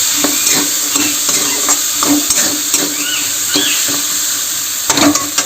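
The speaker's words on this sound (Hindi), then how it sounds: "गैस से आलू भुंजा कलर पूरा चेंज हो गया" Potatoes fry in a pan over a gas flame while being stirred, with a loud continuous sizzle and repeated scraping and clinking strokes of the spoon against the metal, and no one speaking.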